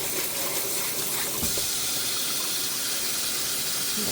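A water spray hoses orchid leaves on a Miltoniopsis, a continuous close hiss of spraying water with slight splashing, steady throughout.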